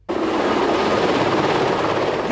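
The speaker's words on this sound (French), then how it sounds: "Paris a eu droit ce matin à un véritable ballet d'hélicoptères." Helicopters flying low over Paris during a transport strike, a loud continuous rotor roar that starts abruptly and holds steady and close throughout.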